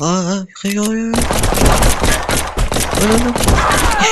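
Rapid gunfire in The Gunner video game as a boss is shot at, with dense bursts of loud close shots over game music and effects, and a brief voice at the start.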